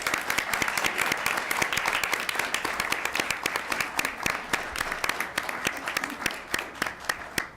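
Audience at a school board meeting applauding elementary school principals, a steady wash of clapping with sharp individual claps standing out across the room, gradually thinning toward the end.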